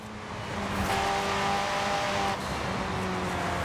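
A car engine revs and accelerates hard in the racing game Forza Horizon 5, a loud sustained drone that climbs in pitch, drops at a gear change and builds again.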